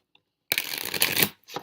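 A deck of oracle cards is shuffled close to the mic, a short dense riffle of papery flutter lasting under a second, followed by a brief second burst of card handling.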